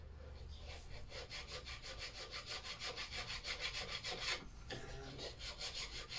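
Steady back-and-forth rasp of a hand file taking burrs off a metal part from a Lister D engine during restoration, close and even-paced strokes, about twenty in quick rhythm with a brief pause near the end, no talking.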